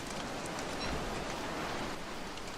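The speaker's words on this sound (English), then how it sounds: "And it's raining." Rain falls in the video game Don't Starve as a dense, even hiss of many drops. It holds steady throughout at moderate loudness with no talking.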